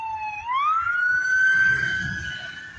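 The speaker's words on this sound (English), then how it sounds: "See, there's ambulance and fire now." Ambulance and fire engine sirens wail, rising in pitch and holding a steady tone, moderately distant over low traffic rumble.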